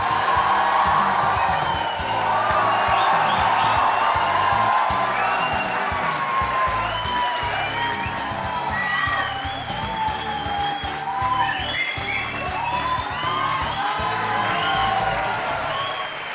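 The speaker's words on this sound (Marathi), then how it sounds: "आणि या टाळ्या अशाच वाजत राहू देत," Loud studio audience applause and cheering greet cricketer Virender Sehwag's arrival, a dense sustained wash of clapping with whoops and shouts running throughout at steady volume.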